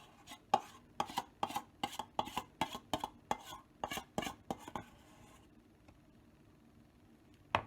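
Cheesecake ingredients are mixed in a bowl, with a quick run of sharp, regular utensil clacks against the bowl that stops around five seconds in, followed by near silence.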